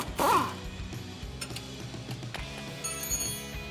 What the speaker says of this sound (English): So grab an 18 socket, put it on the nut, and a 15 wrench or socket,